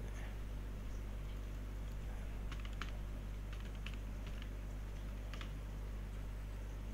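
Soft, quick clicks of a password being typed on a computer keyboard come in short clusters over a steady low hum, faint and close, with no one talking.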